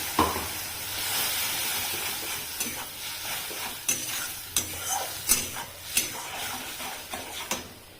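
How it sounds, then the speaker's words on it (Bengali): Okra and potato sizzle in a pan with mustard-poppy seed paste while a utensil stirs, giving a steady frying hiss broken by sharp scrapes and clinks against the pan. "সর্ষে পোস্তটাকে একটু কষিয়ে ভেজে রাখা তোমার ভেন্ডি আর আলুটা দিয়ে একটু নাড়িয়ে চাড়িয়ে মেখে"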